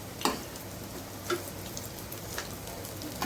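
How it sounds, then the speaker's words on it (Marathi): Chicken kabab tikki fry in a pan with a continuous soft sizzle, broken by a few sharp clicks and scrapes as the pieces are turned. "बाजू बदलून फ्राय करून घ्यायचं आहे"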